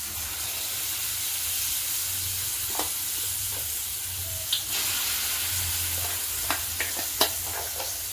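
Even hiss of spices sizzling in hot oil, with a few sharp pops and light stirring clicks breaking through.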